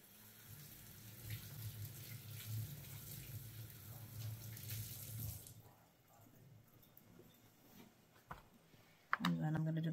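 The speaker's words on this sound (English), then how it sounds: "I'm going to take this chili over to the sink and just rinse it out a little" Sink tap running water over a chili being rinsed, a steady faint splash for about five seconds before the flow stops, followed by clicks and a brief bump.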